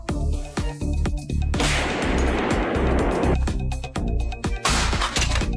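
Artillery shelling at a battlefield in Kursk, with loud, dense booming and crackling blasts, a long roaring burst in the middle and repeated heavy thuds around it.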